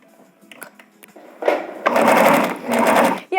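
A sewing machine runs a seam over fabric, turning the piece right side out for a second line of topstitching. It starts with a few light clicks, then two loud, steady, close bursts of rapid stitching with a short pause between them.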